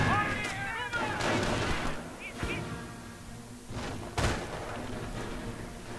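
Mortar fire in the World War II strategy game Company of Heroes: a few heavy thumping launches and distant blasts amid battlefield din, with game voices talking over the action.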